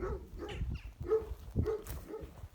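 A dog barks at visitors in a few short, irregular bursts at moderate loudness, mixed with yips and whimpers, with no voices heard.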